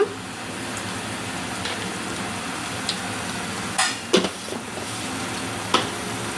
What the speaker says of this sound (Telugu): సాల్ట్ వేసేసాక మొత్తం నీట్గా కలుపు మొత్తం అయితే కలుపుకోవాలండి